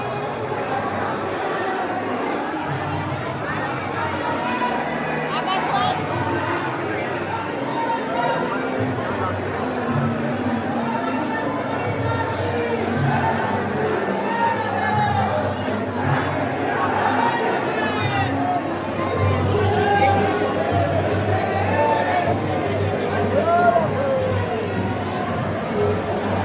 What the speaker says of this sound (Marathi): चांगलीच गर्दी आहे भरपूर.